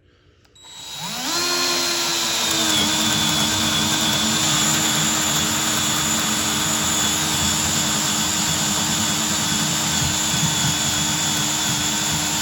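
A power drill with a drill bit spins up and then runs steadily, loud and close, with a sustained whining motor tone and no pause.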